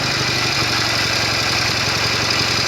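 A Norton Commando 750 motorcycle engine runs steadily at about 1,500 RPM, a close, even mechanical thrum with a faint regular knock and no talking.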